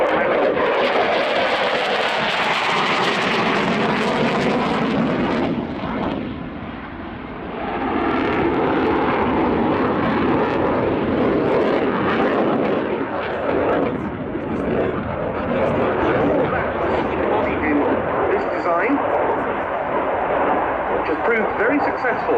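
Gripen single-engine fighter with a Volvo Aero RM12 engine at RIAT 2018, a loud continuous roaring jet rumble that dips briefly and swells again, with a commentator talking over it.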